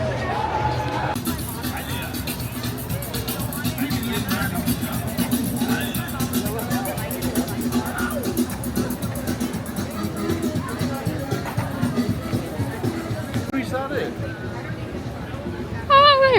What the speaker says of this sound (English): That's just a park crowd